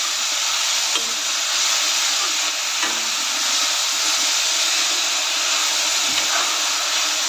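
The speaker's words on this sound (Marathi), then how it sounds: "मेथी घालून चांगलं परतून घेऊया. सर्व मिक्स करून चांगलं परतून घ्यायचं आहे." Fenugreek leaves are stirred and sautéed in hot oil, giving a loud, steady sizzle and hiss close up, with faint scraping strokes from the stirring.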